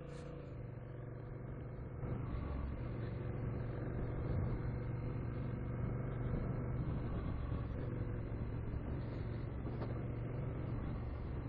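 Honda motorcycle on a test ride from a dealership near Sèvres, a steady engine drone and road rumble that grows slightly louder after the first couple of seconds, with occasional voice in the background.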